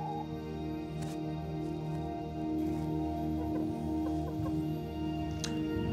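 A backyard chicken clucks in short, uneven bursts close by, with a steady low background hum running underneath and no talking.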